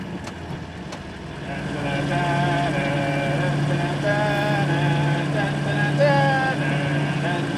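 A scraper, a heavy earthmoving machine, runs with a steady loud low engine drone and shifting higher whine tones, heard up close from the cab.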